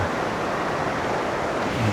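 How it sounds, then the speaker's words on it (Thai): A steady, loud rushing roar of falling water at the lowest tier of Huai Mae Khamin waterfall in Kanchanaburi's Srinagarind Dam national park, continuous and close with no voices. "ตอนนี้เรามาชั้นล่างสุดของน้ำตกห้วยแม่ขมิ้น"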